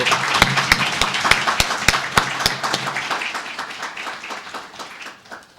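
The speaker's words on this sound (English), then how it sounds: "collectively declare the conference open with a round of applause" Applause from a conference audience, with a few sharp distinct claps standing out early before the clapping gradually fades.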